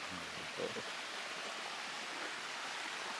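The Rea waterfall, a small cascade near a mountain in the countryside, gives a steady, soft broadband rush of falling water that carries on unbroken and fairly faint throughout.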